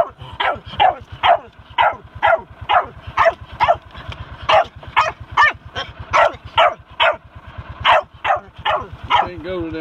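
Many dogs bark in rapid, repeated bursts at a kennel, loud and close, with yips and whines mixed in; someone speaks briefly among the barking.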